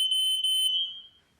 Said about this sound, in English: Checking the fire alarms, smoke alarms, with this special utensil.